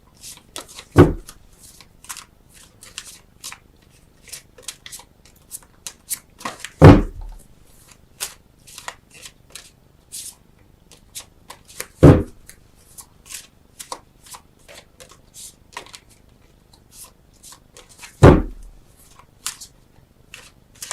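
Tarot cards shuffled by hand in a quiet room, a soft papery riffle running throughout, broken by four sharp, loud card snaps or bridges spaced roughly every five to six seconds.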